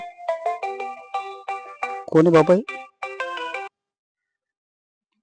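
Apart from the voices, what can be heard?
phone ringtone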